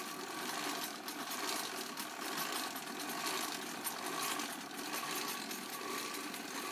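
A bicycle wheel spins against a homemade 110V AC generator built from a ceiling fan and magnets, giving a steady, loud mechanical whir with a constant drone that holds unbroken throughout.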